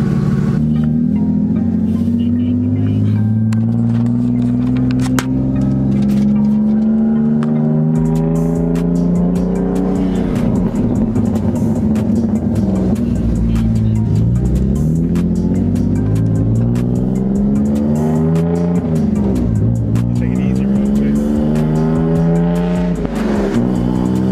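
A BMW E46 engine revs up and down repeatedly while driving, loud and close, with shifting pitch as it accelerates and eases off.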